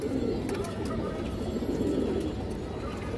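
Pigeons kept at home coo continuously in a dense, soft rumble, with calls overlapping into a steady murmur and no distinct pauses.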